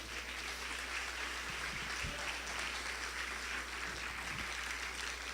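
A church congregation applauds steadily at a worship service, the clapping soft and even throughout with occasional low thumps.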